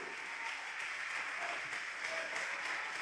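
Applause from a church congregation during a celebration service, a steady wash of many hands clapping at moderate distance, fairly faint and even throughout with no voices over it.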